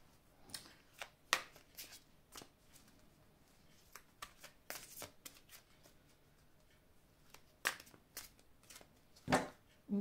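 Tarot cards are shuffled and drawn, with a series of quiet, close papery riffles, flicks and soft snaps scattered irregularly over a hushed background.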